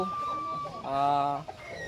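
Chickens cluck and vocalise close by in a short burst, with a voice talking over them.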